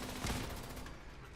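Turret gunfire in Fallout 76 crackles as a dense, continuous burst of rapid shots, loudest early and then thinning into a steady rattling barrage with no talk over it.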